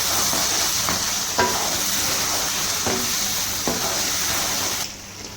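Chicken karahi stir-fries in a pan with a steady close sizzle, punctuated by several periodic scraping knocks of a spoon stirring, the frying dropping away at the very end.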